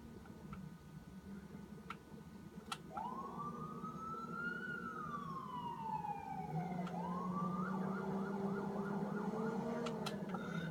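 A police car siren in the video game Watch Dogs 2 wails with long, slow rising and falling sweeps over a steady engine drone, moderately loud and continuous.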